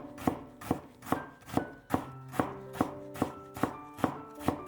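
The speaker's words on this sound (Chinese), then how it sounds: "再改刀切成细丝" A knife chops green radish into thin strips, producing about a dozen crisp, evenly spaced strikes on a cutting board at close range, with no talking.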